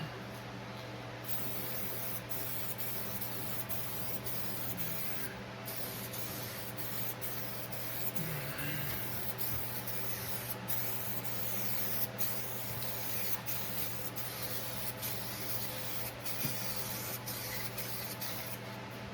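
Pro 15 protective coating sprayed from an aerosol can onto bare metal of a 1969 Dodge Dart, a steady close hiss running the whole time with brief breaks and faint background noise.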